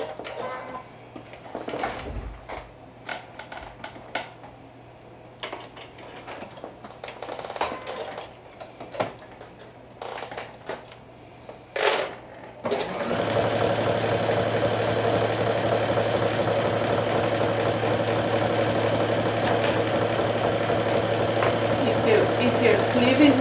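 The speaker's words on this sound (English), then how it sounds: "stitch from the inside with your presser foot on the inside of your sleeve" A home sewing machine stitches a narrow dress sleeve from the inside with the presser foot inside the sleeve. Scattered clicks and handling come first, then a steady, loud, continuous mechanical whir runs to the end.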